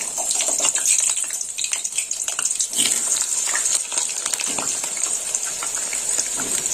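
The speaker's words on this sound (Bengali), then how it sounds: "তেল একটু গরম হয়ে গেছে আলুটা এবার দিয়ে দেবো তেলের মধ্যে দিয়ে দিলাম আলু" Two medium potatoes drop into hot oil in a pan and sizzle with a steady, hissy crackle that runs continuously at close range.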